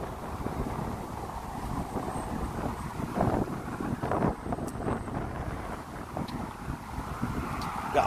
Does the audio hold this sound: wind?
yes